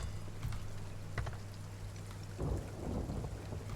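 A rain-soaked thunderstorm at sea in the pirate game Sea of Thieves rolls on as a dense hiss of falling rain, with low thunder rumbling underneath and swelling louder midway, and no talking.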